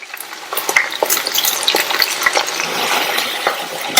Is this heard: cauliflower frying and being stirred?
yes